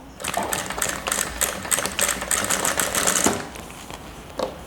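Domestic sewing machine stitching a bias-edge seam, opening with a short backstitch: rapid, close mechanical chattering in bursts, briefly pausing and restarting, then slowing to a stop with a final click.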